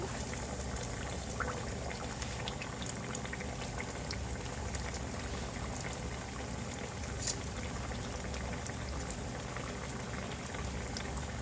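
Hot cooking oil heating in a pan before frying pork chops, a steady close bubbling hiss that runs unbroken throughout with no talk.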